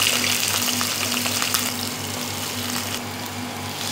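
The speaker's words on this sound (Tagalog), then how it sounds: "At kapag mainit ang ating mantika, ilagay natin ang ating carrots." Sliced carrots dropped into hot cooking oil in a pan for vegetable pancit, a loud, steady crackling sizzle that fills the whole moment, close up with no talking.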